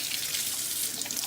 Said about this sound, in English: we're gonna use cold water and we're gonna fill it up